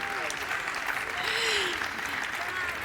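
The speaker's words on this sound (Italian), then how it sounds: "Un grande applauso per Eleonora Giorgi." A large audience applauds Eleonora Giorgi at the La Pellicola d'Oro cinema award ceremony, a thick, continuous roar of clapping held evenly throughout, with faint tonal sounds underneath.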